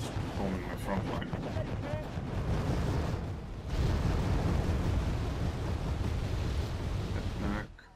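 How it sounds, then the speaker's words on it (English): Bombing explosions batter a front line in the Wargame AirLand Battle video game, making a loud continuous rumbling roar with heavy booming surges. It cuts off abruptly near the end. "he's just bombing my front line"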